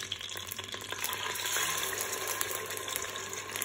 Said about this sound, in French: je vais le faire frire des deux côtés